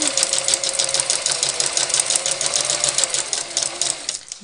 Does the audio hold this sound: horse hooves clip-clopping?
no